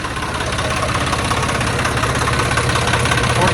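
A Swaraj tractor engine, recently fitted with a new alternator, idles steadily right after starting, with a close, loud, continuous rumble and a fast knocking pulse and no speech.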